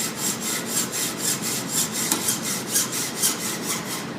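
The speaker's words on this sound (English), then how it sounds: "you can use the full length of the hacksaw blade and you'll get a nice straight cut" A hacksaw blade cuts through metal using its full length, making steady, evenly spaced rasping strokes. The strokes are close and clear, with no voices.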